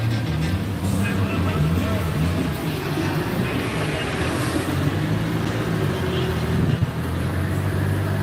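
A car runs on an outdoor dyno at the Titan Live event. The engine holds a loud, constant drone at steady load, with nothing else standing out.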